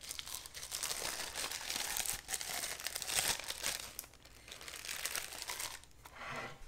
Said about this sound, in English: Just close up your baggie. Get all the air out.